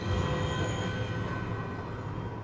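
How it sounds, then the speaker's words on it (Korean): An old junk train on a railway in a drama rolls along the rails, a dense steady rumble with faint metallic squeal, moderately loud and continuous with no voices. "오랫동안 철도회사에 박혀있는 고물기차가 망해버린 세상에 다시 한번 모습을 드러내는데"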